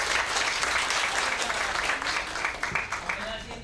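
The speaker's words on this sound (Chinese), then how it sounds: "请大家热烈掌声。" An audience at a high school mathematics teaching conference breaks into warm, sustained applause, a dense steady clapping that carries on evenly and fades slightly toward the end.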